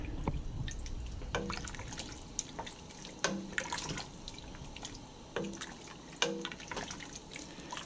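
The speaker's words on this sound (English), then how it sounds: "Now, we're just going to give everything a good stir." Chickpea soup is stirred in a pot, giving soft wet sloshes and spoon taps that recur in irregular bursts over a steady low background. No voices.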